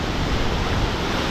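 A waterfall plunges about 70 feet, its water crashing down as a loud, steady, close roar of broadband rushing noise with no voices over it.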